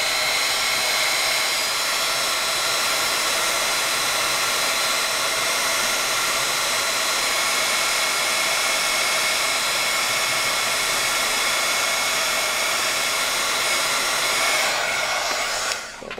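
A heat gun blows a steady, loud, continuous roar while melting Ranger ultra fine white embossing powder for a card, holding constant before cutting off abruptly at the end.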